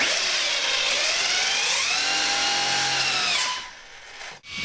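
Arrma Fazon 6S BLX RC car's brushless motor whining loudly and steadily, pitch rising and falling with throttle, then cutting off abruptly near the end.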